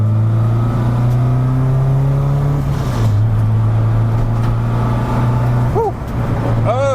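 A cheap Honda Civic engine drones steadily, then its pitch shifts as it accelerates under boost, loud and close with a brief dip before pulling again near the end.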